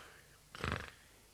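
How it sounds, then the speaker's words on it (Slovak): A cartoon wolf snoring, one loud, rough, rumbling snore lasting under half a second and heard close, with quiet background noise before and after. "Joj, veď to vlk chrápe."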